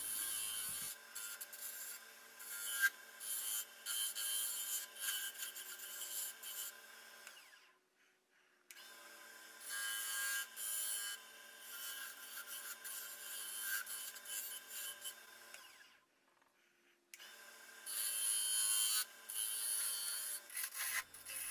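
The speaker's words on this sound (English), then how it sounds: "Now here the roughing gouge is actually used to smooth the grip." A roughing gouge scrapes steadily along a spinning wooden grip on a lathe while a pizza-cutter handle is shaped. Three long, close, even stretches of rasping cut are separated by short pauses.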